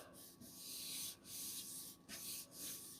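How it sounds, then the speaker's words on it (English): Card rubbed back and forth over the surface of a lid in a craft project, a soft dry scraping in several strokes with brief pauses between them, close and quiet. "just rub that in like so"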